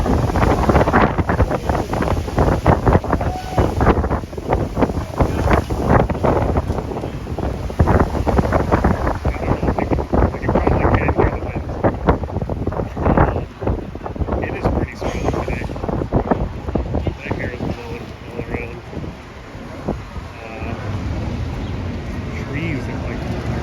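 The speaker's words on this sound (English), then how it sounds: "It's so windy today." Strong wind buffets the microphone on a city walk in Toronto, giving heavy, gusting rumbles that rise and fall continuously and stay loud across the whole stretch, with faint voices under it.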